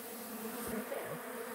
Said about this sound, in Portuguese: Meu Deus, deixei um monte de abelha no chão.